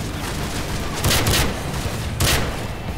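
Two short, loud bursts of weapon fire in Modern Warfare 3 stand out against a steady background of game noise, each lasting a few tenths of a second, with no talking.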